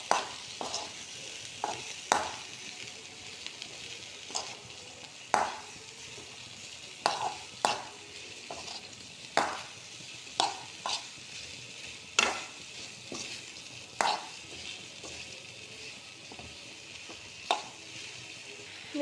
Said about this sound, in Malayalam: ഇനി ഇതിലേക്ക് അരിഞ്ഞു വെച്ചിരിക്കുന്ന വെണ്ടയ്ക്ക ഇട്ട് കൊടുക്കാം. നമുക്ക് മിക്സ് ചെയ്ത് കൊടുക്കാം.